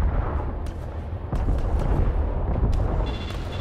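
Bombers attack in the Angels Fall First video game, with a steady rumble of incoming fire, scattered sharp impacts and booming explosions throughout, loud and continuous with no talking.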